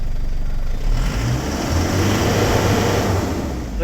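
An Isuzu D-Max with a 4JH1 diesel engine that has a low-power problem is revved up close, giving a loud, steady, throaty drone that swells slightly and holds for a few seconds with no talking.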